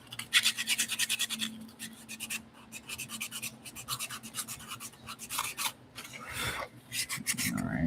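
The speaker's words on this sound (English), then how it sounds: "these little pieces right there, these get kind of hard to sand" Small wooden pieces are sanded by hand, close and quiet, with quick rhythmic back-and-forth rasping strokes that come in bursts and pauses.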